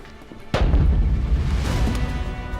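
A sudden heavy boom from a film explosion in Avengers Grimm: Time Wars erupts after a brief quiet, then a long, loud rumbling roar that slowly fades. No one speaks.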